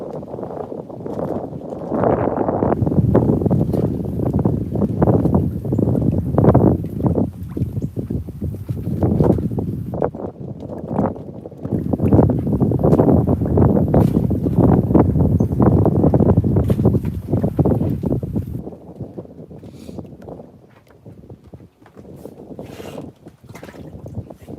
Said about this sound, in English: I don't know if y'all can hear that, but that wind is killing.